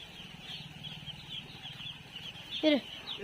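A chicken chick being held in a village, heard as soft peeps and a brief sharper chirp near the end, with low voices talking nearby.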